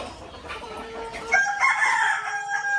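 A rooster crows loudly and close by amid clucking chickens on a farm, the crow rising clear over a low background of fowl.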